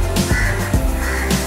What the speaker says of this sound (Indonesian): burung apa itu? Burung gagak ya?